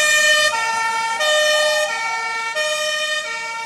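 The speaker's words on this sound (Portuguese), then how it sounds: "A sirene toca." Fire-engine style siren sounding during a fire evacuation drill at a building in Lajeado, a loud steady wail with shifting pitch steps, heard alone and close.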